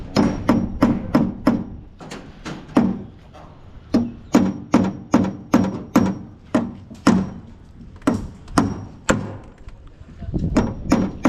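Nails are hammered into wooden centring formwork on a construction site, sharp close hammer blows landing in quick rhythmic bursts of three to five strikes with short pauses between.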